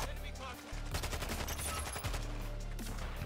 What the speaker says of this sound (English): There are so many explosions.